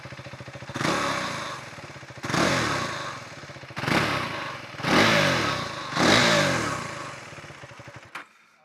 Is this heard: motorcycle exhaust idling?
yes